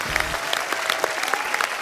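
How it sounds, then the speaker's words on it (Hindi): A TV comedy show studio audience claps steadily in a warm burst of applause, with a brief voice at the very start. "इनके लिए तालियां."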